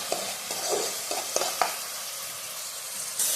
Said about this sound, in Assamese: আমি এইখিনি ভালদৰে ভাজি লওঁ।